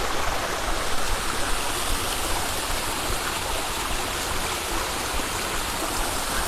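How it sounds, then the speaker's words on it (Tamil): A waterfall above Tiruvannamalai, flowing well, gives a steady, loud, close rushing roar of falling water that never lets up, with no voices over it. "திருவண்ணாமலைக்கு மேலே இப்படி ஒரு அருவி ஓடுது."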